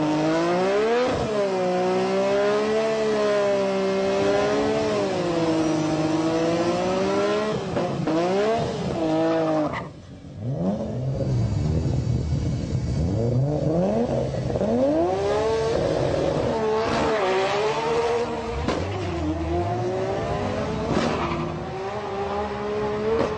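A Phoenix Power Nissan Skyline GT-R R34 street car revs hard, its loud engine note climbing and falling in long sweeps, with a brief drop midway before winding back up. No one speaks.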